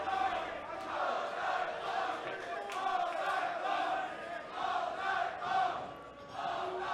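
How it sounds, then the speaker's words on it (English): Wrestling crowd at an AAW Pro match chanting in a steady rhythmic pattern for Rich Swann, the repeated cadence rising and falling across the arena with no other voices over it. "Crowd chanting all night long for Rich Swann"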